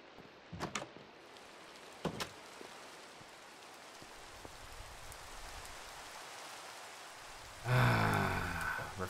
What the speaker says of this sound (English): Raining up here, is it? Oh, it is too. So, Raining sideways.